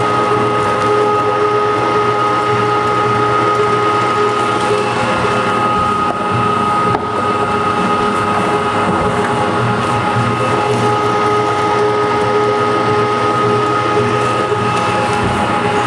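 An electric meat grinder churns venison for hamburger, producing a loud, steady mechanical grinding hum with a whining tone that runs unbroken and close throughout.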